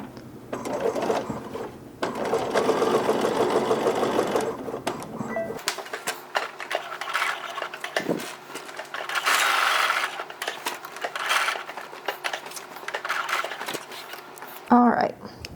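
A sewing machine stitches garment bag fabric in close, continuous bursts of rapid mechanical whirring, pausing briefly between runs.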